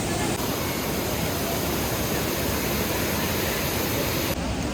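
A waterfall in Andhra Pradesh with heavy water flow roars loudly and close by, a constant, unbroken wash of noise from start to finish.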